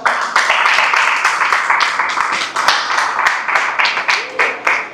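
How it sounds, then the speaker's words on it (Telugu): A church crossover night audience claps loudly in a dense, sustained burst of applause that comes in rhythmic waves, with a few voices faintly underneath. "గట్టిగా చప్పట్లు కొడదామా?"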